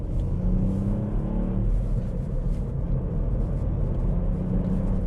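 A 2023 Ford Fiesta ST with a six-speed manual gearbox drives along, its engine giving a loud, close, continuous rumble from inside the cabin with slight revving changes and no talking.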